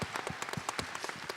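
A panel audience at a conference claps in short, uneven bursts, a handful of distinct hand claps close by with a brief lively cheer.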